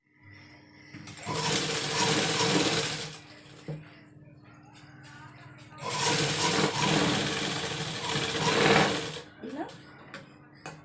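A sewing machine stitches two pieces of dress pant fabric together, running in two long, steady whirring bursts separated by a pause, with a brief voice in between.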